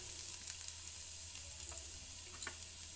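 Chopped garlic and ginger fry in oil for a chicken stew, producing a faint, steady sizzle with light stirring ticks and a single louder tap near the end.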